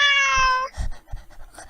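A cartoon cat gives a single clear, tonal meow, followed by a few soft, low thumps and faint rustles.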